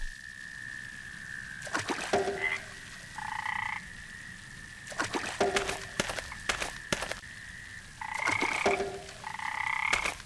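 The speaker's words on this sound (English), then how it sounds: "hearing frogs sing in the pond." Frogs in a pond in the video game Memoranda croak in repeated bursts of rhythmic calls, with quiet gaps between them over a faint steady tone.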